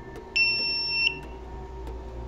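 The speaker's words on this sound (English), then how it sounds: "The LED turns on and the buzzer" A small electronic buzzer on a water level sensor circuit sounds a shrill steady tone for a brief burst, then cuts off, with clicks and a faint hum around it.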